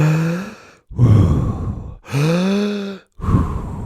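Deep, rapid breaths from a Wim Hof breathing exercise come close and loud, alternating voiced sighing exhales with rushing inhales in a quick, unbroken rhythm of about four breaths.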